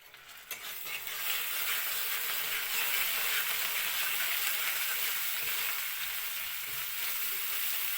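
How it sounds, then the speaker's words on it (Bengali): Ground spices, ginger paste, turmeric, chili and cumin drop into hot oil with a clatter, then a loud, steady sizzle of frying continues throughout. "ভালো করে মশলাটা ভাজা ভাজা করে"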